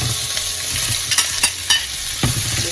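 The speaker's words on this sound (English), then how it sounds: "Hear that sizzle?" Onions sizzling in hot oil in a pot while cooking Dominican spaghetti, a close, continuous frying hiss with a few soft stirring clicks and crackles.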